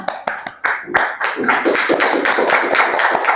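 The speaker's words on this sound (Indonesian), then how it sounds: "Ya, tepuk tangan buat Ilham." A classroom of students bursts into applause, starting with a few scattered claps that quickly build into steady, lively clapping from many hands nearby.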